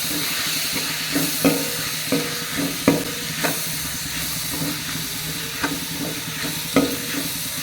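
A pan of spices for crab curry, including chili powder, coriander powder and masala, fries with a continuous sizzling hiss, while a spoon stirs and scrapes it in irregular knocks, close and alone.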